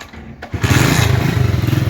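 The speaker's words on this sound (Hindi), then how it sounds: "प्यारे बहन भाइयों हम मोटरसाइकिल पर बैठ चुके हैं" A motorcycle engine idling and revving with riders seated aboard, a loud rhythmic chugging throb that kicks in after a brief quiet start and stays close.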